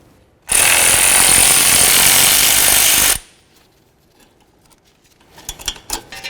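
A power tool spins off a bolt on a 2012-17 Toyota Camry front strut, one loud continuous burst of about three seconds, then quiet with a few light clinks of parts being handled.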